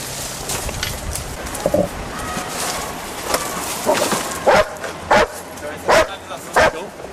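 A trained rescue dog barking to alert its handler, four sharp, evenly spaced barks near the end following softer yips, over background noise and a voice talking.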